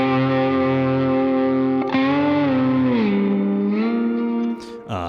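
A lap steel guitar played through a Blues Driver overdrive, digital delay, light reverb, a Dream 65 amp sim and a compressor sustains one gritty, singing note, sliding down and settling before a final pick attack.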